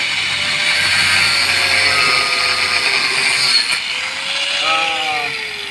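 Loud, close power tool with a cutting disc running steadily, its whining pitch sagging and rising as it bites into material, several strained tones shifting over a few seconds.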